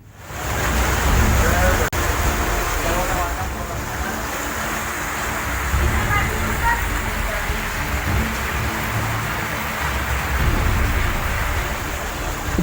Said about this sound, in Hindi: सड़कों पर सैलाब है।